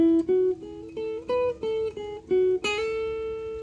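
Clean electric guitar notes ring one after another, some sounded by hammering onto the string instead of plucking, finishing with a brighter struck note.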